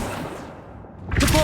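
Accio summoning spell in Hogwarts Legacy on PS4: a brief whooshing swell that fades, then a bright shimmering magical burst with a soft thump near the end, short and close.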